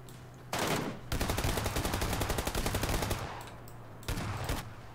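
Rapid automatic gunfire from weapons being test-fired in PUBG Lite, loud close bursts with a brief pause after the first volley, then a long sustained stream and a shorter final burst.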